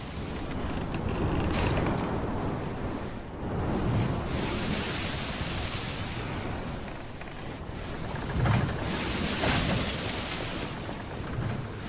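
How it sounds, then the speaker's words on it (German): Rough seas and gusting wind around the schooner Pourquoi pas, a loud broad roar that swells and eases in slow surges, with no voices. "Zwei Wochen lang segelt er bei heftigem Seegang und kämpft gegen Böen, die das Schiff heftig auf die Seite legen."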